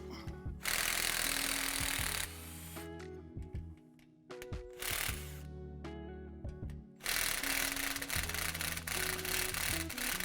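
Impact tool zipping out the differential cover bolts on a Jeep Dana 44 axle in a garage, several loud bursts of whirring rattle separated by short pauses.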